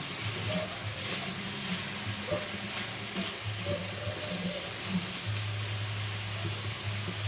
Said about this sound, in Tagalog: gisa-gisa lang tayo guys